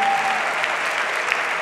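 A church congregation at a Saturday morning service applauding, a steady dense wash of clapping from many hands that holds evenly throughout, loud and close with no talk.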